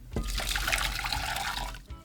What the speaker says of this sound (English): just pour the water on the bowl